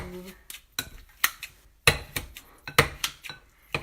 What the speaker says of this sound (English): you're supposed to hold it this way so that this curved part goes around the bowl. And then you just start chopping.